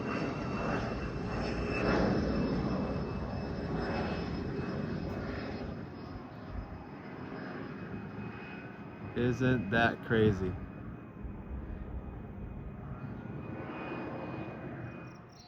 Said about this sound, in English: You can hear a plane taking off in the background.